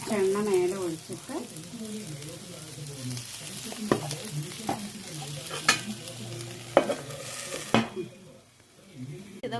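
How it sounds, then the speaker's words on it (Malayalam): Biryani ingredients frying in oil and being stirred in a pan: continuous close sizzle with scraping and occasional sharp clinks of a spoon against metal, easing toward the end, with intermittent talking. "ഇതൊക്കെ വറുത്തതാണ് കേട്ടോ"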